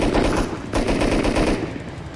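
Automatic gunfire in the game Rust during a raid, loud rapid bursts of shots close up, with a short pause between volleys and no talking.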